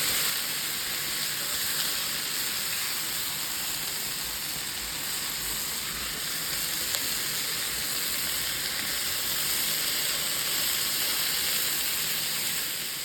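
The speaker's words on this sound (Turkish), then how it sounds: "sebzelerimizi yeterince kızarttıktan sonra pişirdiğimiz köfteleri içine alıyoruz. Tekrar şöyle bir karıştırıyoruz" Cooked meatballs tossed into a pan of fried vegetables, giving a steady, loud hiss of sizzling oil that runs unbroken throughout, with no voices.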